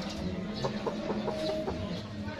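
Backyard chickens, early-maturing Boston sweater gamefowl, cluck in short repeated bursts against a steady background hum of farm ambience.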